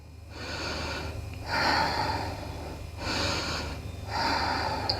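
Deep, slow breaths during a seated yoga twist, three long swells of air each lasting about a second, close and soft over a low steady hum, with no talking.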